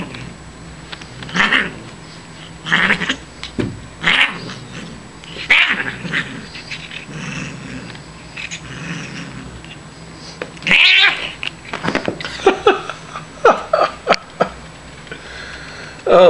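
A pet cat at play lets out a string of odd yowls, growly chirps and meows, loud and close, in bursts with short pauses, against a light household background.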